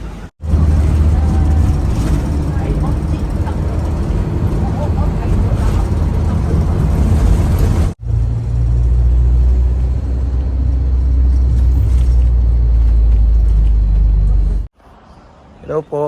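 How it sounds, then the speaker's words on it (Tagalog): A city bus ride with a steady low engine rumble and road noise running throughout, broken by two brief cuts, while people talk over the drone. "So sakay na po tayo ng bus."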